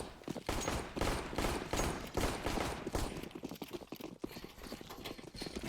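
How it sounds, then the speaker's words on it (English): Glock pistol shots in Counter-Strike on the Nuke map during a competitive match, a rapid run of sharp, closely spaced cracks that blend into a clattering volley, fading into scattered lighter pops. "Plenty of Glock shots to open up the skylights"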